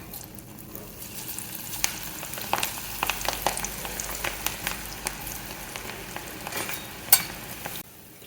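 Meal maker soya chunk pakodi deep-frying in hot oil make a steady, bubbling sizzle close by, with occasional sharp clicks of stirring before it cuts off just short of the end.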